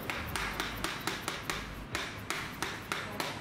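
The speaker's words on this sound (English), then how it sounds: "then there you hear it mesh with the spline" Bottom bracket spindle being tapped in to mesh with its spline during a BB92 installation on a Rocky Mountain Slayer mountain bike: about a dozen faint, evenly spaced sharp taps at a steady rhythm, close up with no talk.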